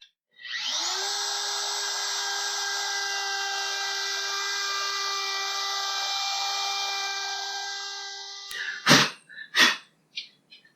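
A power tool whines steadily as it widens a hole in an RV floor for a vent, running for about eight seconds before stopping. A few sharp knocks and scrapes follow. No one speaks.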